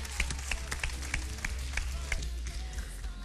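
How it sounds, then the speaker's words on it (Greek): Audience applause at a live ice-dancing television show, steady scattered clapping at moderate distance, fairly soft, with a voice faintly mixed in. "Ένα χειροκρότημα στο πλάσμα,"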